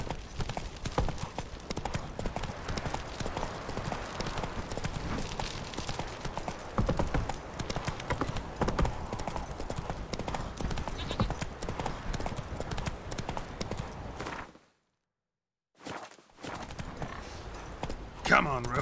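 In The Witcher 3, Geralt's horse Roach trots with a steady clip-clop of hooves throughout, broken by a brief silence, while voices talk over it.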